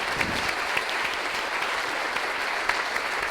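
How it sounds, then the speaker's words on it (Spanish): Steady, dense applause from a seated audience at a panel discussion in Argentina, sustained and even throughout with no voices over it. "también merece un fuerte aplauso"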